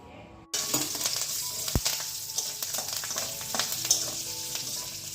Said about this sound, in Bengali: কারি পাতা শুকনো লঙ্কা গরম তেলের মধ্যে দেওয়া হয়ে গেল